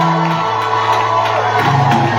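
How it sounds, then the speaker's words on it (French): A church congregation shouting cries of joy during worship, a loud, dense crowd roar of whoops and cheers with sustained tonal voices and music underneath, building slightly near the end. "Pousse les cris de joie."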